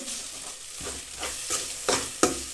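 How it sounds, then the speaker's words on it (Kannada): Chili powder, coriander powder and garam masala frying in hot oil for a tomato bath seasoning: a steady close sizzle with scraping stirs and a few sharper spatula clacks near the end. "ಇದನ್ನು ಒಂದು ನಿಮಿಷ ಎಣ್ಣೆಯಲ್ಲಿ ಫ್ರೈ ಮಾಡೋಣ"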